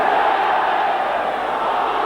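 Rugby league crowd sheltering under a stand enclosure at a 1993 St Helens versus Warrington match, a steady, dense roar of many voices held at even loudness throughout.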